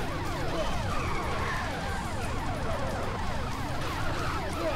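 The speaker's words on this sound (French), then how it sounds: "on entend les sirènes." Several wailing sirens in the video game Carmageddon sweep up and down in overlapping cycles, moderately distant and continuous, over a low background rumble.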